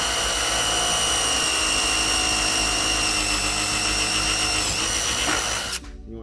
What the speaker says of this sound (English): In this case, we have an impact drill.